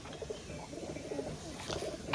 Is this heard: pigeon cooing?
yes